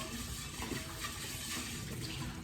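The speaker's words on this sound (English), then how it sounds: "Pan hot, straight off the stove, wash it, straight away." A hot pan straight off the stove rinsed under a running tap, a steady low splashing rush of water at moderate distance with no voices.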